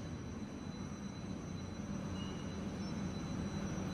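Wuyi tram line 1, a green tram, pulling into a station: a steady, continuous low rumble of rolling rail noise fills the whole stretch at fairly high level, with no talk over it.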